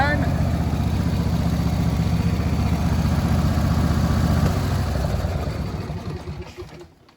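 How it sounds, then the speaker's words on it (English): A John Deere D130 lawn tractor with a 22 horsepower Briggs & Stratton engine, serviced and showing about 318 hours, runs with a steady close rumble that tapers off and fades near the end. "I mentioned we've got a 22 horsepower Briggs & Stratton engine."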